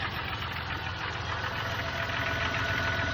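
A 2004 Jeep Grand Cherokee engine idles steadily with the AC clutch engaged, a continuous close mechanical hum and rattle that holds at an even level throughout.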